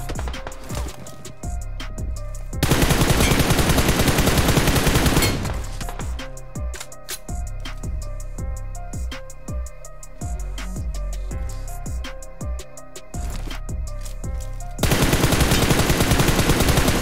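Automatic rifle fire in the mobile battle royale game PUBG Mobile, fast repeated shots in several bursts separated by pauses, loud and close, with no talking over it.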